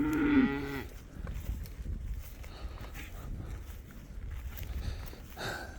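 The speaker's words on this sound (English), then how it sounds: "the cows all came to say hi to each other" Young bull calves and cows moo on a farm, one loud nearby moo opening, followed by low rumbling bovine calls, shuffling hooves and faint further moos at the end.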